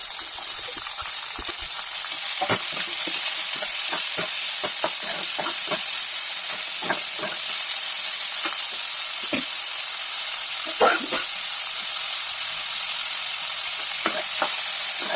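Onions frying in a pan for a jackfruit seed rasam, with curry leaves already in the oil: a loud, continuous bright sizzle and hiss, broken by scattered crackles and occasional stirring scrapes, up close without any talk.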